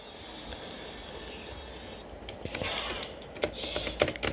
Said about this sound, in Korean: 게이밍 키보드.